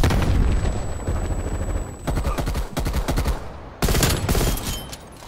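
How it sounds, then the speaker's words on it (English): Combat sounds in Call of Duty: Cold War, where a frag grenade goes off amid loud bursts of rapid gunfire and booming blasts, a sharp explosive burst near the end standing out from the steady fusillade. "Hostile frag grenade"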